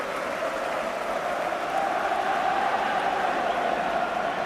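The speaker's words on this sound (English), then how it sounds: "And listen to the applause." Applause from a football crowd at a 1984/85 Manchester City home match against Charlton Athletic after a goal, a steady, dense roar of clapping and crowd noise sustained throughout, with no voices standing out.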